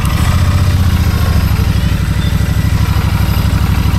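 Royal Enfield Shotgun 650 motorcycle engine just after startup, a loud, close twin-cylinder idle with a steady low thumping pulse and mechanical clatter, running continuously with no talking.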